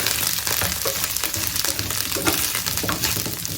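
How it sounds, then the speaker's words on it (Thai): Asparagus stir-frying in oil in a Thai home kitchen, a dense, loud, continuous sizzle with rustling tossing and clatter throughout, no voices. "เราจะใส่หน่อไม้ฝรั่งตอนที่น้ำมันยังไม่ร้อนจัดค่ะ"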